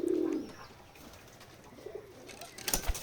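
Farm pigeons on a village farm in Betikhola, Keshabpur, Jessore, give a loud, low, throaty coo close by at the start, followed by quieter rustling and a few soft bird sounds near the end.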